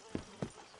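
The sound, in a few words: horses' hooves clip-clopping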